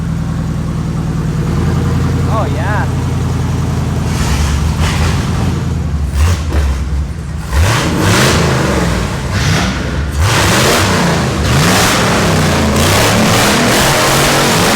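A Ford Ranger pickup's 5.0 engine, with newly fitted exhaust, idles roughly, then revs up several times in rising and falling surges. A voice briefly speaks over the loud rumble.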